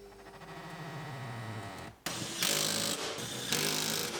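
Rear bolts being driven into a Kia Sorento with a power tool, a whirring mechanical buzz followed by louder bursts of rattling impact, close by with no talk.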